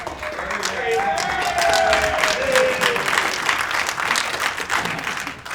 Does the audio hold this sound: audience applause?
yes